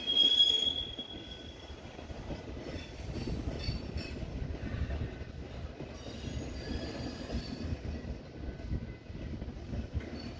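Westbound and eastbound freight trains meet in Fremont, their steady rolling rumble carrying a high wheel squeal early on and scattered metallic screeches throughout, moderately distant, with no talking.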